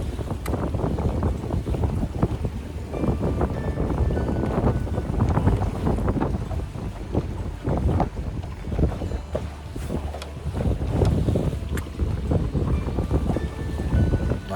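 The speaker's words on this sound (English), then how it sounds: "you can see the trees, how hard it's blowing." Strong wind gusting steadily on Lake Okeechobee, rumbling into the microphone with a broad continuous roar of buffeting and water wash, loud and close throughout with no talking.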